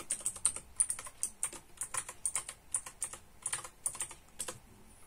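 Quiet, rapid clicking of keys on a computer keyboard, typed in irregular bursts with short pauses and no voices.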